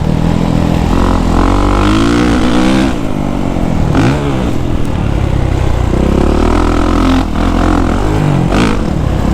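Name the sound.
Kawasaki KX450SR motocross bike engine with Pro Circuit exhaust pipe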